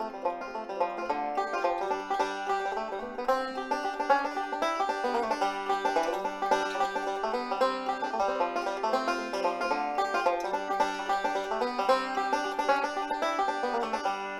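A fast, bright stream of plucked banjo notes in a continuous rolling pattern, playing the bluegrass tune "Salt Creek," lively, steady and unaccompanied.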